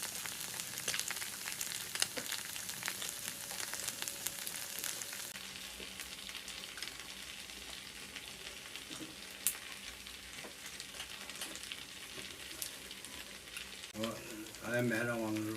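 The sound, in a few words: braised pig head pan-frying, fat rendering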